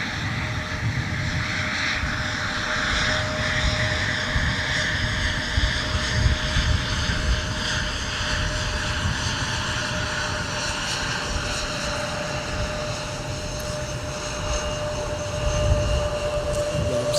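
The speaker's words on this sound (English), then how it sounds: "SkyWest CRJ." A SkyWest CRJ regional jet taxiing out for departure at a snowy airport gives a continuous loud engine roar with a steady whine, close by and unchanging for the whole stretch, no voices over it.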